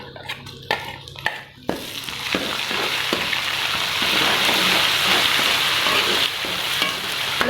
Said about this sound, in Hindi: तो इसमें मैं डाल दूँगी पहले लहसुन अदरक का पेस्ट।